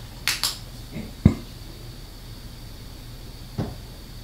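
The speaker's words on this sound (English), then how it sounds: "There was just a knock on the fucking wall" A few sharp knocks on a wall inside a reputedly haunted house in Salem, spaced apart in a quiet room: a quick pair, a louder single thud, then one more later.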